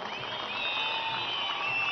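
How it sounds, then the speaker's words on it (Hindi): Crowd applauding at an Amit Shah political rally in Jammu and Kashmir, steady sustained clapping from a large audience heard at a distance, even in loudness for the full two seconds. "जोर से ताली बजाना जरा"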